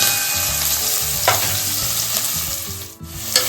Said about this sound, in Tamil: வெங்காயம் மட்டும் நல்லா வதங்கிட்டோம்.